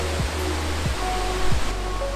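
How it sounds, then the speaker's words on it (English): Dingmans Falls in Pennsylvania roars as a steady, loud broadband rush of falling water, continuous and close, with low thumping gusts of wind buffeting the microphone. "you keep walking up and you get great views of the waterfall"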